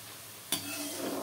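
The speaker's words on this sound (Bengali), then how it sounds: "আলুগুলো আমি সেফ ধুয়ে নিয়ে তেলে ভাজছি।" Washed potatoes fry in hot oil, a sharp clatter of stirring followed by a steady close bubbling sizzle.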